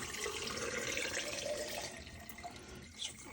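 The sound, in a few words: pouring water glass solution over eggs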